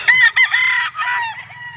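A Red Kelso stag rooster crows loudly and close by, giving one drawn-out call with a low background murmur under it.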